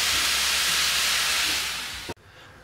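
Bacon frying in a pan on a Broil King grill, a loud, steady sizzling hiss with no talk that runs for about two seconds, then cuts off abruptly into near silence.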